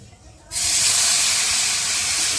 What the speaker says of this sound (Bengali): ভাজা হয়ে গেছে পরিমাণ মতন জল দিয়ে দেবে